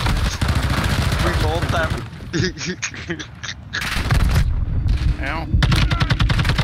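Gunfire from the shooter Call of Duty DMZ rattles in loud, repeated automatic bursts with pauses between volleys, mixed with voices talking over the shooting.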